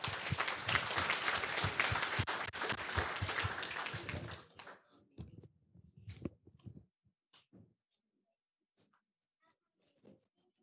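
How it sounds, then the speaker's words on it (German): Dense applause from a crowd at a youth hackathon's final presentations in Cologne rewards a student project team, loud for about four seconds before quickly thinning to a few scattered claps and then near silence. "Vielen Dank und einen Applaus für die Gruppe."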